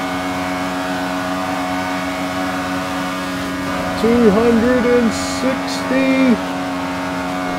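A 1970s Grand Prix race car drives flat out up the back straight of the Nürburgring in the Forza racing game. Its high, continuous engine drone climbs and wavers in pitch while someone talks over it.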